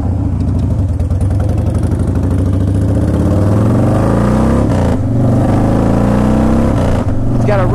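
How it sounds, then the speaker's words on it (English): A Harley Davidson Softail Standard motorcycle with 27,000 miles rumbles loudly at close range, its engine note rising and falling through revs, with a rider talking over it. "It's got a real nice growl to it."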